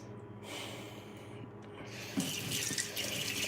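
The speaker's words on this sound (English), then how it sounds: "I add a little bit of water to it, sometimes hot water" Tap water runs from a kitchen sink faucet into a bowl of cat food for a Ragdoll cat, a steady close splashing flow that grows louder and brighter partway through.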